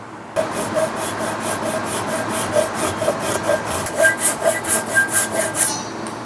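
A handsaw cuts through the wooden handle of a double bit axe, its rhythmic back-and-forth strokes close and steady, quickening and growing louder toward the end.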